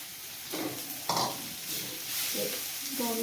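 Chilies and cashews sizzle and get stirred in a pan in a home kitchen, a soft continuous frying hiss broken by a few scraping stirs, with faint voices nearby.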